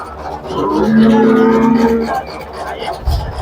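A single long, low cow moo rings out nearby and fades, set against the murmur of a busy outdoor crowd at the Sardar Nagar cattle market.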